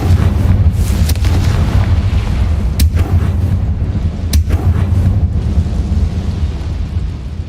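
A Confringo spell explosion in the Hogwarts Mystery video game: a steady, loud low rumble with two sharp bursts cracking through midway, sustained throughout without speech.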